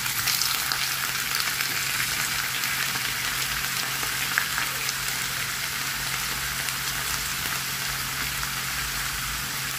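Squid frying in a pan with onion and garlic gives a continuous bright sizzle, steady and close throughout with faint crackling pops.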